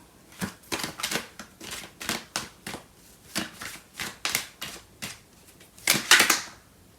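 Tarot cards are shuffled by hand in a steady series of soft riffling bursts, close and quiet, with a louder, fuller riffle near the end.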